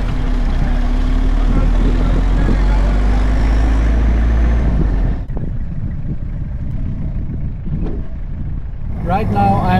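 A car driving through the desert minefield on the border zone between Morocco and Mauritania, a loud, steady low engine rumble for about five seconds that then drops to quieter, rougher road noise.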